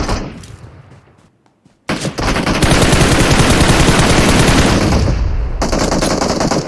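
Sustained automatic gunfire in PUBG Mobile, loud and dense bursts roaring almost continuously after a short quieter lead-in with scattered shots.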